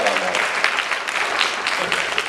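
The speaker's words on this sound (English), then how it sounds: "a huge round of applause for all the students that put this together as well this evening" Audience at an evening speaker event applauds steadily, a continuous wash of many hand claps with a faint voice beneath.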